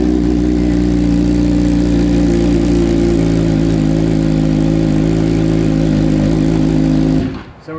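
A 2020 BMW S1000RR M superbike engine runs at a steady, loud idle for about seven seconds, a low throbbing rumble that then cuts off abruptly near the end.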